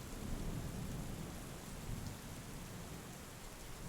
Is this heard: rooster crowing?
no